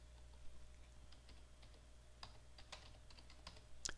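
Typing on a computer keyboard while entering a domain name to check availability, heard as faint, sparse keystrokes at close range, with a few louder clicks near the end.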